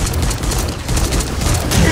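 Rapid, loud bursts of gunfire fill a blood moon fight in the survival game 7 Days to Die with the Darkness Falls mod, shots crowding together in a dense, continuous volley.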